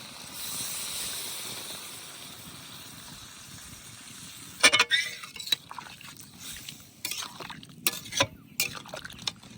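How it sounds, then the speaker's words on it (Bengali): Water is poured into a pan of fried pumpkin, starting with a soft hiss. A sudden bubbling splash follows, then crackling, sputtering bursts as the liquid hits the hot pan. "চার 5 মিনিট কুমড়ো ভাজে নিয়েছি, এবার জল দিয়ে দেবো"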